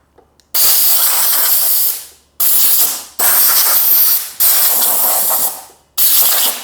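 Bursts of compressed air from a compressor nozzle blast dust out of a lawnmower air filter, four loud, close hissing blasts separated by short pauses.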